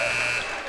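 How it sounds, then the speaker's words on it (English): A high school girls basketball game buzzer sounds to end the quarter, a brief steady electronic tone heard over faint crowd noise in a gym. "Madison Rupp, shot taken at the buzzer, no good, and we've got 1 quarter in the books here"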